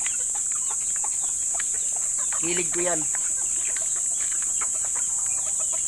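Farm chickens cluck in the background, a brief, clear clucking call near the middle standing out over a steady high-pitched hum, while someone talks in the clip.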